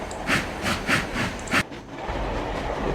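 Trains run in Trainz Railroad Simulator 2006 with rhythmic clickety-clack wheel beats over rail joints, followed by a steady rumbling roll and hiss.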